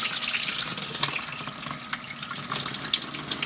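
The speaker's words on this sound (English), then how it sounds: "So we are going to just empty this out right now." Hot dye water from dyeing a cotton hoodie pours out into a sink, a steady splashing, running wash of water close by with no talking.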